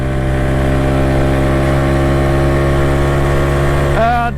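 A Suzuki Address 125cc scooter at around 50 mph on a rough road, its engine a loud, close, steady drone that holds one pitch, then shifts and wavers at the very end.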